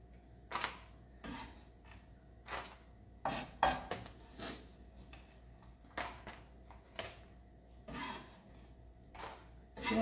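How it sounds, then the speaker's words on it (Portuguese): Knife chopping an ingredient on a board for a low-carb brigadeiro, irregular single taps and short bursts of cuts, close but fairly quiet, in a calm kitchen. "aqui eu só tô picando ele, deixando mais fácil para dissolver"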